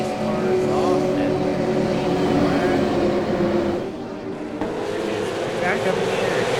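Race cars from the iRacing sim at a New Hampshire oval, engines droning loud and steady, with a brief dip in volume before the roar resumes, while a commentator talks over it.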